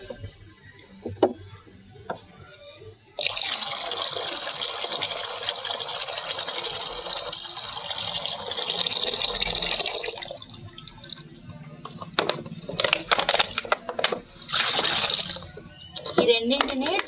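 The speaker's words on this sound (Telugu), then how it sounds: "ఈ వాటర్ని కూడా ఇందులో కలుపుకుందాం" Water poured into a homemade fermented plant fertilizer mix, a steady splashing stream lasting several seconds and then giving way to sloshing stirring and clinks, close by, with talk around it.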